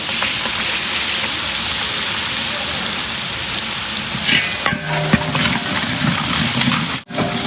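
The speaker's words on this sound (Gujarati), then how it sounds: "આ લસણ ડુંગળીનો વઘાર થાય" Garlic and onion tempering frying in oil for dal fry, with cumin and dried red chillies, crackling and sizzling steadily and loudly close up, with brief stirring scrapes near the end.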